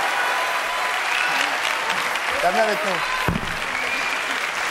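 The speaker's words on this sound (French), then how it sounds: "Applaudissements pour Marine qui avait trouvé" Steady studio audience applause for Marine on a French TV show, continuous clapping with a few voices speaking over it.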